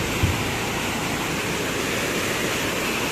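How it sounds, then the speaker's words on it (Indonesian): River water swollen to a heavy flow rushes under a bridge at dusk, making a steady, loud, broadband roar that stays constant and close with no voices. "Tapi yang pasti ini ada penambahan debit air dulu."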